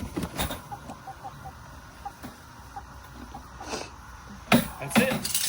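Rooster clucks in short, scattered bursts over a rustling background, with a louder flurry of calls near the end.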